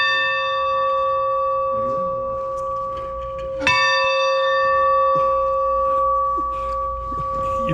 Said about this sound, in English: I want to hear you ring the bell.